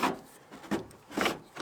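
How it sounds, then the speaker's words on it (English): Aluminum tubing is pushed through a car headliner, giving a few short, close scraping rubs against the fabric and trim, three distinct strokes in under two seconds. "I'm gonna try to fish this guy, which is just a piece of aluminum tubing, through the headliner and over there"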